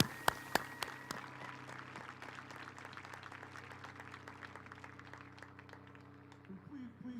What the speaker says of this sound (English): So I'd like a hand of applause for her as well,